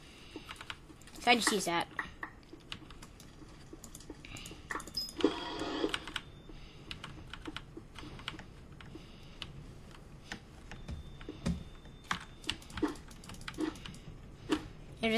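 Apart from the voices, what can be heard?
typing on a computer keyboard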